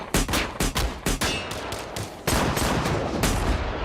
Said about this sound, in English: Gunfire explodes from both sides, turning the quiet mountainside into chaos.